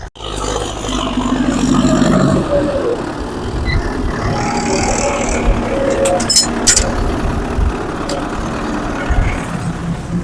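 A farm tractor's engine runs in the cold on a frosty field before tilling, a loud, steady low rumble and roar close by, with occasional clanks and shifts in the mechanical noise.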